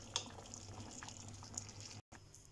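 Lentil soup simmers in a pot on the stove, giving soft, irregular bubbling and occasional small pops, quiet and close with no talking.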